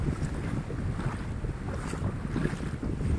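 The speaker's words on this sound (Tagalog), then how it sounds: "Malakas pa rin yung alon." Strong sea waves and surf at an island beach in Pangasinan around sunrise, a steady broadband roar of water mixed with gusting wind noise on the microphone, continuous and fairly loud with no talk.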